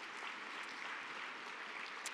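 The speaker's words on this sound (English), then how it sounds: "Give the young people a round of applause" A crowd at a summer learning keynote applauds young people aged 25 to 34, giving steady, even clapping that sounds somewhat distant and muffled and holds throughout.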